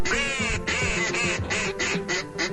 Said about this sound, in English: wood duck